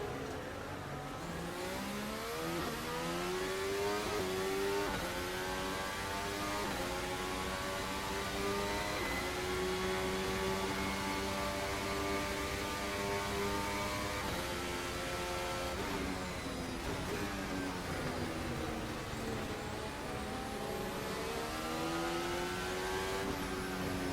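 A 2026 Formula 1 car in the racing game Assetto Corsa screams at high revs, its engine note climbing and dropping through gear changes for over twenty seconds, loud and continuous with no talking.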